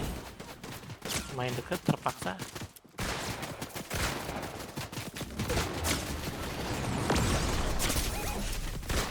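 Rapid bursts of gunfire from a Fortnite match, loud and repeated over several seconds with a brief silent gap, thickening into sustained shooting toward the end.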